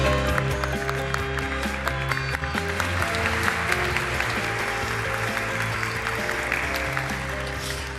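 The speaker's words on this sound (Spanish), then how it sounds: "Pedimos, por favor, un aplauso para recibirla." An audience at a science congress applauds to welcome a speaker, a steady, moderately loud wash of many hands clapping that continues evenly for the full eight seconds, slowly easing near the end.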